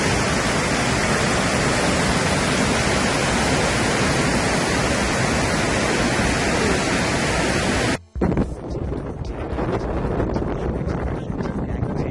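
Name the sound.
waterfall in Skagway, Alaska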